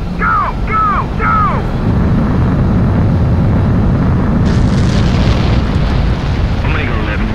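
A fighter jet in the Ace Combat 7 video game roars through takeoff as a loud, continuous broadband engine rush that holds for the whole stretch, with radio chatter voices over it.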